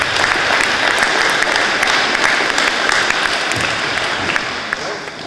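Sustained audience applause at a county council election count, a dense steady clapping of a large indoor crowd that continues throughout and fades slightly near the end.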